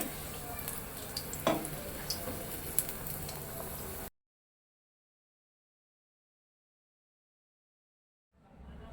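Chillies stuffed with salt and cumin fry in oil for Uttara Karnataka mandakki mirchi, giving a soft, steady sizzle with a few clinks of a utensil. The sizzle then cuts to silence before a voice returns.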